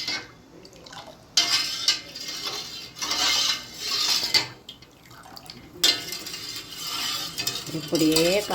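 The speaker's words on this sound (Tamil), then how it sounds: "இப்படியே கலக்கிக்கிட்டே இருக்கணும்." Senna alata leaf juice and coconut oil stirred in a pot, with close, uneven scraping and sloshing strokes that come in bursts and pauses.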